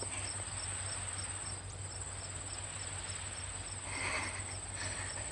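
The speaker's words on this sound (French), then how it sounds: "Dis au grillon qu'il se taise." A cricket chirps in a fast, high, steady pulse that runs constantly over a quiet low hum, with no voices.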